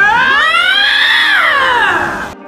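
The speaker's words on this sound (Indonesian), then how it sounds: "sepertinya suara lynx lebih keras dan lebih berisik" A lynx gives a loud, drawn-out caterwauling meow, a single rising and falling yowl lasting over two seconds, close and alone before cutting off abruptly.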